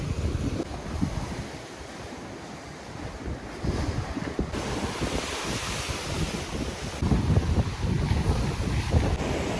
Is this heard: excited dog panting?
no